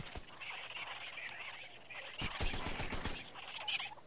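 Shotgun and pistol fire in the video game ARK on Xbox One, a quick scatter of sharp, fairly faint cracks bunched together near the middle, over a background of game ambience.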